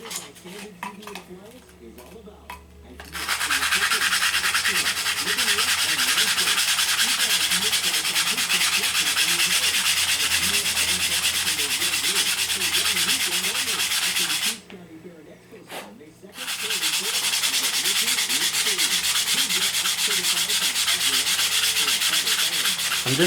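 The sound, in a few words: sanding board sanding wood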